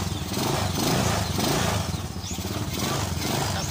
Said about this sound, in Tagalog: okay andarin motor natin